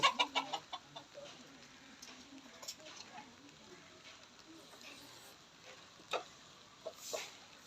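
Chickens cluck in short bursts at the start, then scattered soft clucks continue over a faint background, with a louder call near the end.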